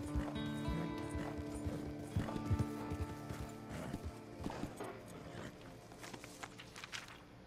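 A horse in the video game Red Dead Online trots with rhythmic clip-clop hooves alongside mechanical ratcheting clicks and a brief whinny; the sounds are fairly quiet, with tonal game music or ambience humming underneath.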